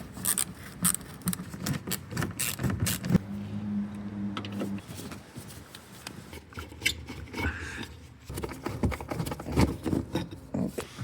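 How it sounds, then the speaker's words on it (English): Hand tools clicking and scraping as bolts are loosened on the undercar cover of a 2018 Alfa Romeo Stelvio 2.0 T4, close irregular ratcheting and metallic taps with a brief low hum in a garage. "we're gonna take these bolts right here all around the cover, and we're gonna use this T4 torque wrench."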